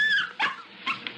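A small dog in a radio drama gives three short, high whimpering whines in quick succession, close and clear, with no other sounds.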